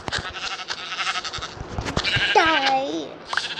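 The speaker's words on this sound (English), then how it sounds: "Oh, I found some sheep." Minecraft sheep bleat in a game, a wavering bleat rising clearly over a steady bed of background game noise and chatter, close and fairly loud.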